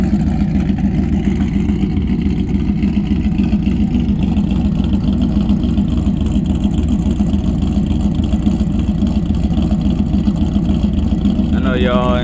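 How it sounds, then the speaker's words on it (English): A Ford Lightning truck's engine runs steadily close by, a continuous low rumble holding at a constant level throughout with no clear revving. "turn on the truck real quick, let you guys hear that"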